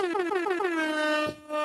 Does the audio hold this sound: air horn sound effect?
yes